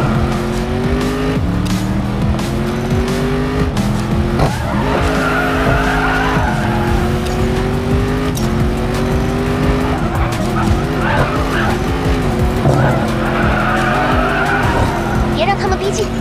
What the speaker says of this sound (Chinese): 漂移失控时注意反打方向盘